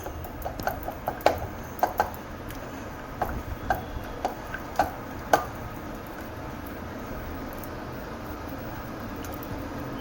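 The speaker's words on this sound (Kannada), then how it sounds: "ಸ್ಮ್ಯಾಶ್ ಮಾಡ್ಬೇಕು ಚಂದಂಗೆ, ಗೋಟಾಸ್ಬೇಕು ಚಂದಂಗೆ 2 ನಿಮಿಷ." Softened food is mashed well with a masher in a pot: soft, quick taps and squishes, clustered in a rhythmic burst for about five seconds and then fading to near quiet, with no talk.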